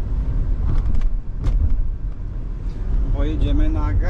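A Volvo XC70 engine idling on LPG, a steady low close rumble with a few brief sharp clicks, and a voice speaking near the end.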